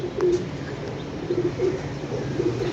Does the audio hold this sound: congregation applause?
no